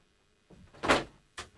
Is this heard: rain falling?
no